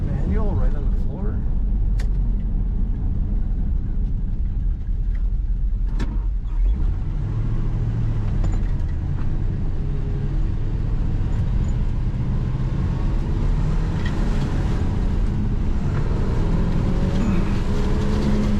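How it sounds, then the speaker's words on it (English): A 1958 Chevrolet Corvette convertible with a 4-speed manual revs and pulls away, its rumble rising in pitch through acceleration, close and loud, with talking over it. "Very good acceleration in this car."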